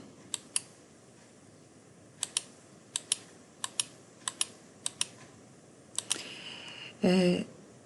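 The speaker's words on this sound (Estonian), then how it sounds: "Ja saab ka teksti trükkida." Keys on a computer keyboard are typed in short bursts of two or three sharp clicks, each separated by pauses, close and clear in a quiet room. A louder, longer clatter comes at the end.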